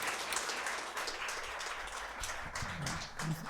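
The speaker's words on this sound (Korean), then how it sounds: "우리가 힘차게 박수 한번 치겠습니다" Audience applause at a Korean church service rises as a dense, sustained patter of many hands clapping. It is moderately distant and fairly quiet, and a few low voices come through near the end.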